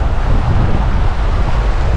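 Strong wind buffets the microphone beside Cwmorthin waterfall in Wales, a steady loud low rumble with constant roar throughout and no voices.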